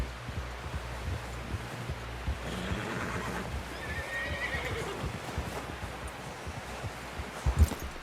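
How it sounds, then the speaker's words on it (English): A horse whinnies loudly over soft hoof clip-clops and rustling, in a fairly quiet setting, in the video game Red Dead Redemption 2. "Someone help John down off this horse."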